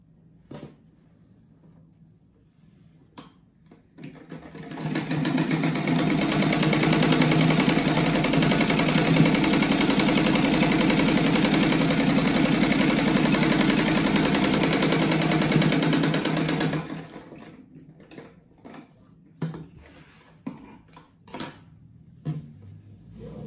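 A sewing machine stitches a seam on a kite-fabric mat, running as one loud continuous mechanical whir for about twelve seconds, preceded and followed by quiet handling clicks and taps.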